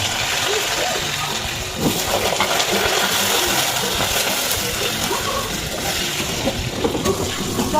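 Diced potatoes frying in hot oil for khichuri, a steady close sizzle and splatter running throughout at an even level.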